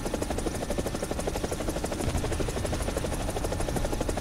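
Helicopter rotor chop in a video game, AB 205 A-1, a steady loud rhythmic whir filling the whole clip with no talk over it.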